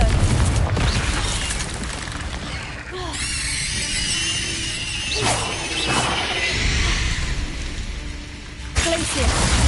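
Explosive blasting spell in a Harry Potter video game: repeated booms and crackling impacts over a dense, loud game soundscape, with spoken voice mixed in.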